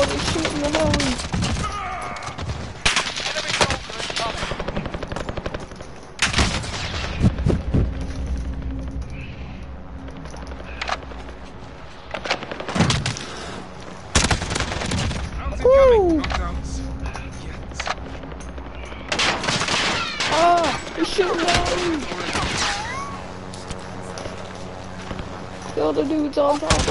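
Video game gunfire crackles in loud, repeated bursts across the whole stretch, some sharp single shots and some rapid volleys, with players talking over it and other game noises in the mix.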